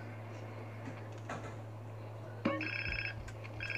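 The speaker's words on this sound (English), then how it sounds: "Crap, I got a phone." In GTA San Andreas, a phone rings in short repeated electronic trills after a sharp click, coming through over a steady low hum and quiet game ambience.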